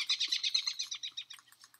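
Rapid high-pitched bird chirps and tweets from the video game Don't Starve, a quick run of short calls that thins out and grows fainter toward the end, with no talk over it.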